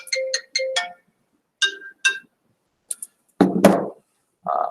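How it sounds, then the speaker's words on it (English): A phone ringtone for an incoming call plays a clear, repeating electronic melody in short bursts, followed by a few louder handling thumps and a sustained tone near the end. "I've got a phone call."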